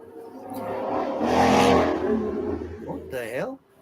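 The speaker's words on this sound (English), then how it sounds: "That was a car." A car passes outside a talk-show studio, a rising and fading engine whir that swells to a peak and then recedes, mixed with people talking over it.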